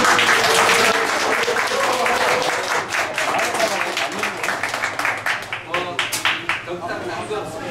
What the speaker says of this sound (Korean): 김수현 교수님, 큰 박수로